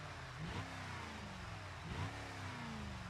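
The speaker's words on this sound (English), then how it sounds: "Ooh, sounds like it's got a meaty engine." A simulated car in BeamNG revs its engine with a meaty, mid-range tone, two rising surges about a second and a half apart over a steady drone.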